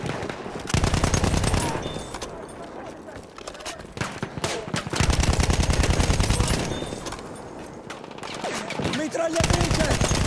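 Sustained bursts of automatic machine gun fire in Battlefield 1 trench combat, likely a BAR M1918, roaring in long rattling volleys separated by brief pauses, with in-game voices shouting over the gunfire.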